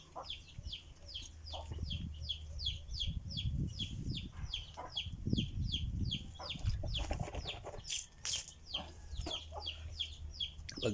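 Backyard chickens cluck at close range over a steady rapid chirping of birds or insects, with occasional wing flaps and low rumbling noise throughout.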